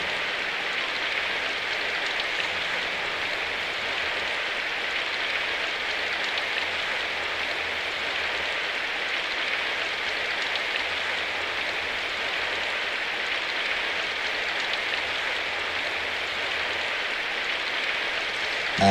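Rain falls on cobblestone streets in the game Symphonic Rain as a steady, even hiss of dense patter that continues unchanged from start to finish.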